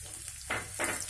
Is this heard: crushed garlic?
yes